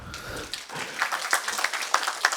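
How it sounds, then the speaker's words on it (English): Scattered applause at a medical college foundation day ceremony, hands clapping faintly and unevenly in a hall, individual claps standing out rather than a dense roar. "Give a wide applause for the private health sector of the state."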